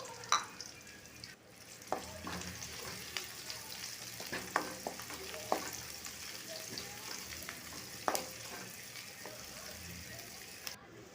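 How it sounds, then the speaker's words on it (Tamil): Big onion and curry leaves sautéing in hot oil with fennel seeds, a soft continuous sizzle broken by scattered spoon clinks and stirring scrapes, fairly quiet and close. "பெரிய வெங்காயம் கருவேப்பில் தலை சேர்த்து நல்லா வணக்கி விட்டுடலாம்"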